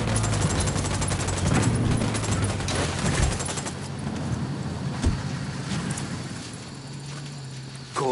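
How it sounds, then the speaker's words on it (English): Rapid gunfire bursts from the video game Ghost Recon Wildlands crackle densely for the first few seconds, then thin out to sporadic shots over a low rumbling background. "Ahorita fueron unos pinches disparos."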